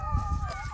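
Backyard chickens clucking and vocalizing close by for a brief moment, a steady fowl chatter with a low rumble beneath and no speech.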